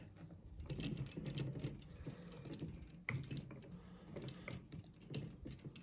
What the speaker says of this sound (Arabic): هاي البرغ الاول بنحله، هذا البرغ الاول